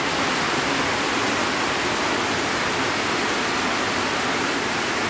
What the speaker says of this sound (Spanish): Y qué rico está lloviendo